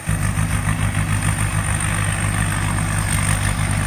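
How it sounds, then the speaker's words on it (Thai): A heavy diesel combine harvester engine runs steadily and loudly up close while harvesting rice in a paddy field, a continuous low rumble with a high whine on top, no voices. "ขออภัยในเสียงเครื่องด้วยครับ"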